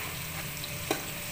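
Onions for chicken korma fry in a pan toward light brown, giving a soft, even sizzle with one brief tap of a utensil.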